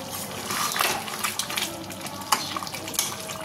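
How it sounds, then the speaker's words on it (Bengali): Boiled chicken leg pieces stirred in a pot with their released water, giving soft wet sloshing and light scraping with a faint bubbling sizzle, close and fairly quiet. "হালকা একটু নেড়ে নেবো।"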